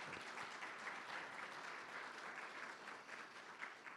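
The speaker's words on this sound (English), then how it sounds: "Let's give him another big round of applause." Steady, dense applause from an audience at a community college Veterans Day ceremony, honoring a Navy veteran speaker; continuous and fairly loud throughout with no talking.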